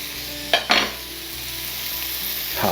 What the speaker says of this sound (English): Put a little butter right on top just to help release all those oils on the garlic